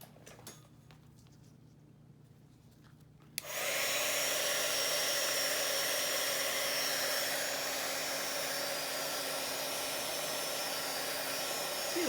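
A hair dryer blowing on wet watercolor paint on a Bible journal page switches on after a few quiet seconds and then runs as a steady, loud, close whoosh to the end.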